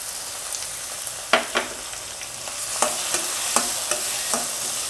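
Onion, garlic and tomato sauté in a hot pan for Chettinad therakkal, giving a steady close sizzle with several sharp spoon taps and scrapes as the mix is stirred. No one speaks.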